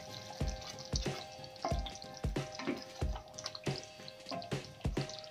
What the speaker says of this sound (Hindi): और अब पनीर डाल देते इसमें। पनीर डाल दिया है